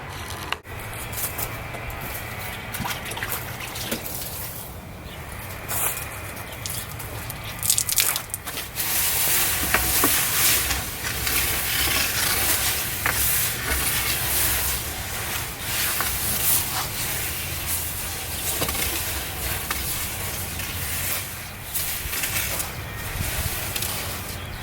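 Cool water is mopped across the hot floor of a cob oven, producing a steady close hiss and sizzle of steam with wet rubbing and dripping, loudest midway, running alone without talk.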